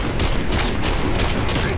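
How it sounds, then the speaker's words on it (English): Pistol gunfire in a video game shootout, rapid loud shots packed closely into a dense volley, up close. "Holy crap, we just had a pistol war."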